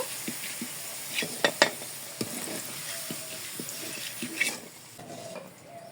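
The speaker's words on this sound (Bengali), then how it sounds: "খুব সুন্দর করে আলুগুলো ভেজে নিয়েছি এখন তুলে নিব" Potatoes frying in oil with salt and turmeric give a soft, steady sizzle, with scattered clinks and stirring scrapes of a utensil against the pan close by, and no talking.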